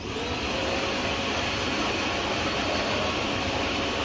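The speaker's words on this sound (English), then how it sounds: "I've got the reverse function so that it can actually blow air out as well." A vacuum cleaner running in reverse blows air into a treadmill, a steady loud whooshing roar with a faint constant whine, unchanging from start to end.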